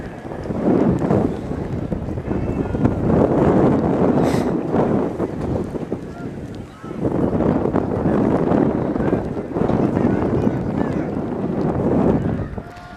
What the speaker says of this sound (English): Wind. It's getting a little stronger.